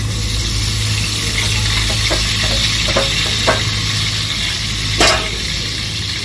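Masala hitting hot oil for a mutton curry, a loud, even sizzle with a low steady hum underneath and a few clinks of stirring.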